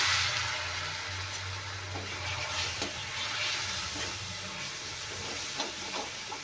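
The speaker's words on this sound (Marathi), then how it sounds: "आता हे जळू नये म्हणून थोडंसं आपण पाणी घालूया" Roasting spices in a pan, with water just poured on, give a steady moderate sizzle and hiss that runs on evenly with faint stirring clicks, close and without talk.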